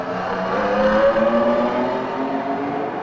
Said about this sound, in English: These JS2Rs really do make a great noise, especially as when they're accelerating out of La Source corner